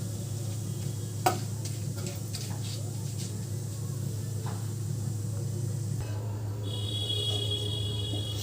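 Whole peppercorns, cumin seeds and cracked cardamom pods crackle and sizzle in two spoons of white oil, a steady low frying hiss with scattered small pops and ticks, near and continuous, for a chicken vegetable soup.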